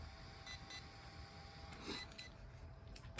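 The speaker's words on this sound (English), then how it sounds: "It just beeps and flashes a green LED." A Hobbywing ESC gives faint, short, high-pitched beeps on power-up, a couple of separate chirps followed by a few more, over a quiet room background.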